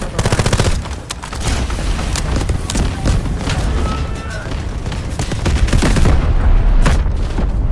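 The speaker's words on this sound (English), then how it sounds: "Artillery cover coming." Artillery barrage in the video game Delta Force: Hawk Ops: dense, continuous booming blasts and rapid gunfire rolling without pause, loud and close throughout.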